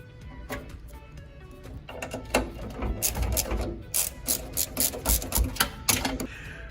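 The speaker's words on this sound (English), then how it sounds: "You have to remove these two 7mm nuts." A socket wrench ratchets off 7mm nuts on the elevator of an ES Plus snack vending machine, starting with a few quiet clicks and building into a close, rhythmic burst of mechanical ratcheting.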